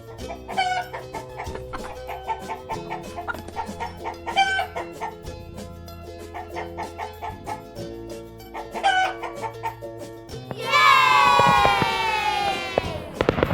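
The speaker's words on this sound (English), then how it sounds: "Hen." A hen clucks repeatedly over a bouncy children's music backing, ending in a loud rooster-like crow burst near the close.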